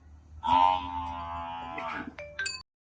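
A big, hefty Khillar bull lows once, a loud, close, drawn-out moo lasting about two seconds, followed by a brief clatter, with no speech over it.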